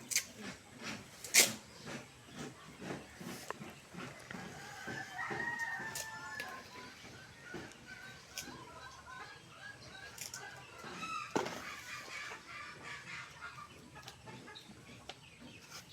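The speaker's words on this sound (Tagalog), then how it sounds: "Manok, 5 manok guys." Hens cluck steadily in the background while a rooster crows, louder bursts rising above a busy farmyard, with faint voices mixed in.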